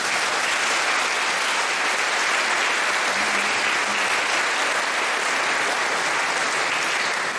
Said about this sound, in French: Let's clap hands.